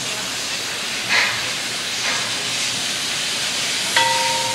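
Steam locomotive Lok 20 Haspe on a narrow-gauge line leaves Bruckhausen-Vilsen station, giving off a loud, continuous roar of hissing steam with a couple of short puffs and a brief whistle-like tone near the end.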